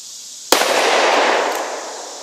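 One sharp, powerful report from a Smith & Wesson 629-4 .44 Magnum revolver at an outdoor range, its blast trailing off into a drawn-out echo with no talking.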